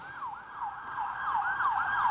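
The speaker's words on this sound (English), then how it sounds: "We actually got some sirens passing us here." Emergency vehicle sirens wail along a city street in Louisville, rising and falling in a steady repeating sweep that holds moderately loud and fairly close throughout.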